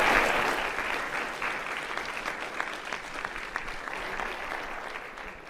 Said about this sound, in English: Let's give a round of applause for our debaters for Luke's Q&A